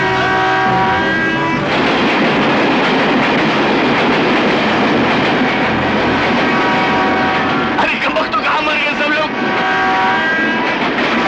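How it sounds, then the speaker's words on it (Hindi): A train approaching in a Bollywood movie scene, a loud continuous rumble and roar that fills the whole stretch, with a voice briefly heard over it. "ट्रेन आ रही है।"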